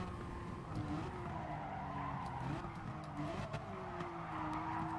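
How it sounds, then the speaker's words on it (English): Race car tires squeal in a long drifting skid in GT Sport, a sustained wavering screech over a droning engine, steady and fairly close, with no talking. "A little bit of Tokyo drift."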